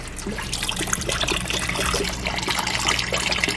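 Chicken stock pouring into an Instant Pot, a steady close liquid trickle and splash that runs continuously with no speech.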